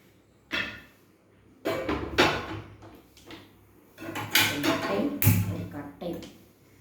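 A frying pan handled in a home kitchen to fry an egg, giving several sharp metallic clanks and knocks at irregular moments, fairly close, with faint background noise between them.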